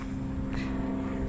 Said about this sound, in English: I guess there is some noise. Little airplanes.